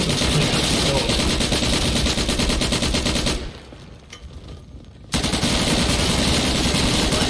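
Automatic gunfire from a video game shooter rattles loud and continuous, breaks off into a brief lull with faint background noise, then resumes at full intensity.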